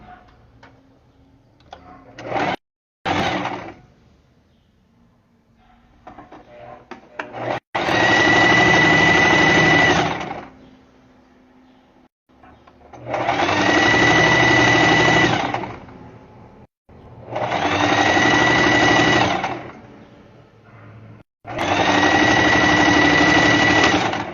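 A sewing machine stitching a diaper bag runs in four loud bursts of rapid mechanical whirring, each several seconds long, separated by quiet pauses with faint handling clicks and brief starts near the beginning.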